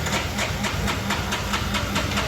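Motorcycle engine struggling to run after a rectifier regulator was installed, a loud, rough, pulsing idle with uneven rhythmic chugs, close and alone.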